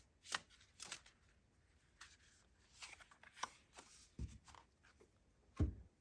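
Soft, quiet card handling from an oracle deck: scattered riffling and papery flicks come in short bursts with a few light taps on a surface in between.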